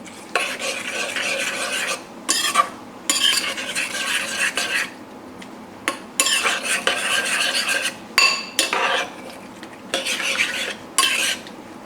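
A utensil scrapes and stirs ingredients in a bowl or pot while making pork adobo, in short repeated bursts of clinking and scraping separated by brief pauses, close and fairly loud.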